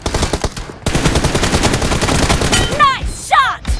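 Rapid automatic gunfire from a mobile shooter game rattles loud and close in dense bursts, followed by a couple of sharp ricochet-like whizzes near the end.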